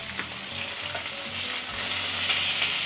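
Chicken grilling in a hot pan, a steady broadband sizzle and crackle that holds close and fairly loud throughout, with faint low hum beneath and no voices.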